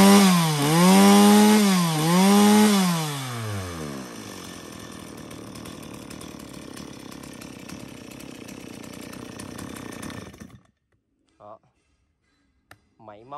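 A STIHL 024 chainsaw engine idles and revs loudly nearby, rising in wavering pitch sweeps before settling into a steady rough running drone, then cutting off abruptly, followed by a few brief voices.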